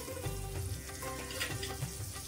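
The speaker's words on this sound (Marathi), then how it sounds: "बटर टाकायचं तव्यावरती" Butter sizzles and crackles on a hot griddle for toasting masala pav, a steady frying hiss with soft scraping, close by.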